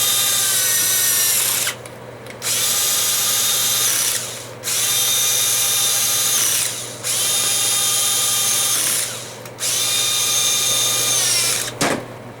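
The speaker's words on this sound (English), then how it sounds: "so let's start running them down." A power tool drives screws into an L80E automatic transmission during output shaft replacement, in four sustained, close, loud whirring runs separated by short pauses, ending with a brief final burst. No one talks.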